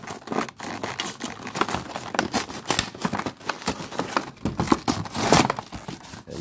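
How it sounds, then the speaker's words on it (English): A small blade slices open a budget plastic packet holding a 1:72 diecast Hawker Typhoon model, giving dense, continuous crinkling and tearing of plastic with rapid crackles throughout, close and fairly loud. "we'll get the little bladey out and we'll cut this packet open"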